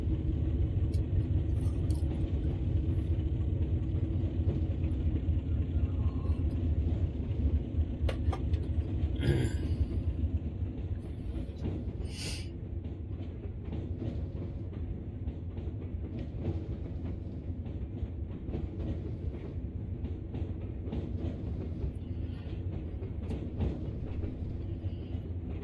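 A Class 33 diesel locomotive on the West Somerset Railway in Train Sim World rumbles steadily, a deep continuous engine drone with rail clatter, loud at first and easing slightly, with a few brief sharp clicks over it.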